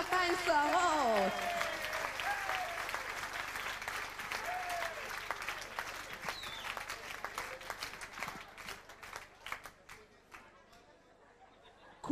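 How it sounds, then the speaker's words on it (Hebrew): An audience welcomes maestro Marcelo to the stage at a kibbutz's 50th anniversary celebration, with warm, dense applause and some chatter that gradually thins into scattered claps and fades near the end. "קבלו אותו במחיאות כפיים סוערות"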